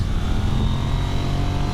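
A KTM 990 RC R motorcycle engine on a race track drones steadily at high revs, loud and close throughout the brief moment.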